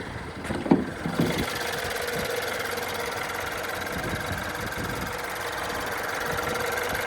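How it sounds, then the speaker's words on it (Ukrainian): A Mini Cooper engine with automatic transmission idles steadily, a smooth even mid-low hum after a couple of brief knocks at the start, close and fairly loud with no talk. "Двигун працює чітко, екологія на місці."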